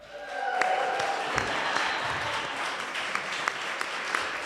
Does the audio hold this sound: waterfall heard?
no